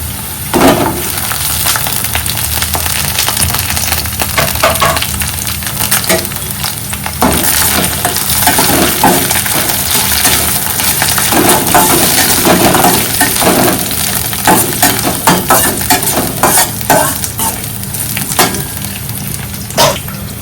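Green chillies frying with browned onions in a pan for a mushroom masala curry, a steady loud sizzle with occasional stirring scrapes and clinks, and no talk.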